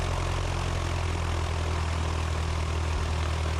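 A small propeller airplane rolls down the runway for takeoff at night, a steady droning engine and propeller hum heard from inside the cabin, constant and even without speech.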